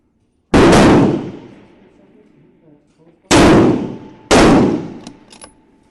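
Rifle shots at an outdoor 600-yard F Class target range, three sharp loud reports, one alone and then two about a second apart, each trailing off in a long fading echo.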